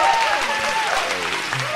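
A crowd claps and cheers for a man introduced on stage, the clapping mixed with whoops and a voice calling out over it, fairly loud and close.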